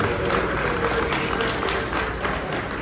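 A crowd at a museum event gives a round of applause, steady dense clapping filling the whole stretch at an even, loud level.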